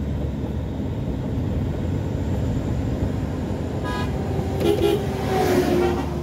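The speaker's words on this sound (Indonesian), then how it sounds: "Meraung-raung mobil kan. Oke, gigi satu meraung masih." A car engine roars in first gear while descending a steep mountain road between Takengon and Beutong, a steady loud drone with a brief horn toot near the end.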